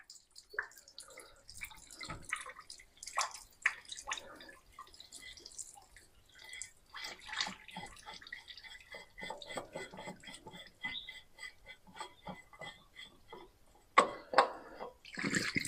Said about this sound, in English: Maybe we'll just let that drain out of there ever so gently.